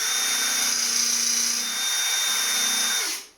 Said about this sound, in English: Okay, so I'm going to drill.